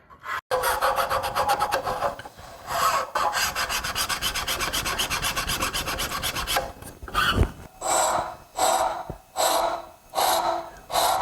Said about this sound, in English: Have to be pretty careful with these coarse cut rasps like this.